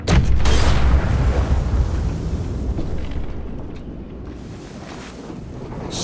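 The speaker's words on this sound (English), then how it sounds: "Shit, the bomb!" A bomb explodes in The Walking Dead: The Final Season game, starting as a loud, dense roar and fading into a long rumbling, wind-like wash with no voices over it.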